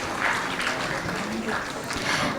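An audience at a school annual day event applauds in a continuous wash of clapping, moderately loud and steady, with faint voices mixed in.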